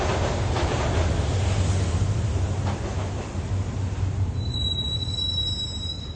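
Video game sound of a moving train: a steady, loud rumble with a continuous roar and metallic wheel squeal, joined near the end by a high whine.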